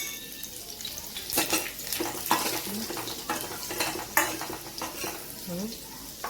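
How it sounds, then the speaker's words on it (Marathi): Cumin, curry leaves and finely chopped garlic fry in hot oil for a dal tadka, a steady sizzle broken by repeated scrapes and clinks of a spoon stirring against the pan. "त्याच्यामध्ये जिरे ऍड करूया, कढीपत्ता, लसूण बारीक चिरलेला व्यवस्थित आपण फ्राय करून घेऊया"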